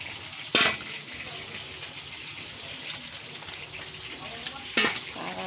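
Water draining from freshly washed vegetables next to a fish, a continuous hissing splash with two sharp clattering bursts, close and fairly loud.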